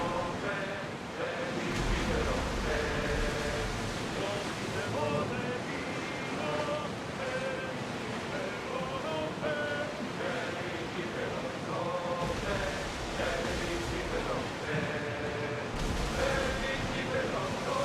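A ship sails across the ocean in Assassin's Creed Odyssey, with a continuous rush of waves and wind, game music playing over it, and a voice talking intermittently throughout.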